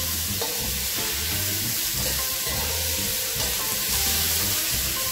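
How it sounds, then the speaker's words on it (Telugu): Onions with ginger-garlic paste fry in a pan for gobi fried rice, making a continuous, even sizzle close by, with a low hum underneath and no voices. "ఇదంతా కూడా కొంచెం పచ్చివాసన పోయేదాకా ఇలా ఒకసారి ఫ్రై చేసుకోవాలి."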